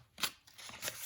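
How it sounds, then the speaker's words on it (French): A ten euro banknote is slid into a paper envelope, with a few quick, faint papery rustles and swishes close by. "je mets un billet de 10 euros"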